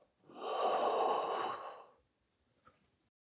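A single close, audible breath pushed out through the nose and mouth during a standing hip exercise, lasting about a second and a half before fading to quiet, followed by a faint small click.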